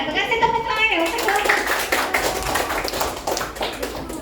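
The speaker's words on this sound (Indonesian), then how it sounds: "Kasih tepuk tangan ya." A classroom group claps hands in loose, scattered applause, the quick slaps overlapping while voices talk over them throughout.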